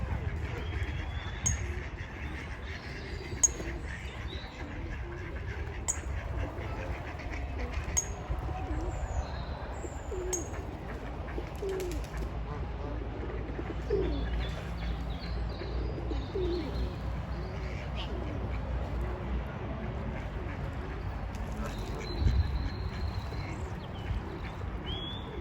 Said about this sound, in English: Huge number of water birds at the River Lee Park